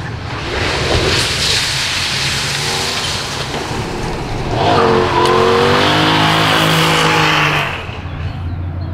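A Toyota GT86 drift car's engine revs hard and loud as it runs into a gravel trap, its rising and falling pitch sweeping for several seconds over a constant rough roar.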